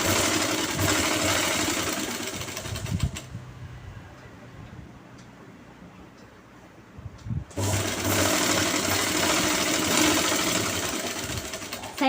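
A sewing machine stitches a pant bottom hem in loud, close bursts of rapid mechanical running, stopping for a few seconds in the middle before starting up again.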